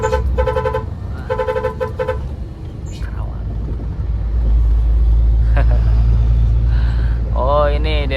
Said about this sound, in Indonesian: Kita sedikit kejebak macet karena ada perbaikan jalan guys di Cikarang ya.